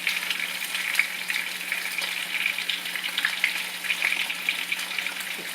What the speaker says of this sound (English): this is how I'm browning my oxtail